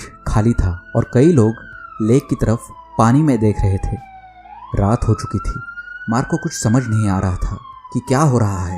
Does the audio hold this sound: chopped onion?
no